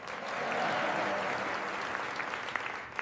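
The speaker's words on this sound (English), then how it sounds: "Let the applause finish" Audience applause fills a room at a gathering about patient care, a steady wash of many hands clapping that holds for about three seconds with a few sharper claps near the end.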